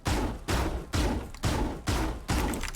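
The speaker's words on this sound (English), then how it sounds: "This is a shotgun, so it feels like you can shoot a little faster, but you can't." Six booming shotgun blasts in the video game Valorant, fired at a steady, slightly spaced rhythm with no talking over them.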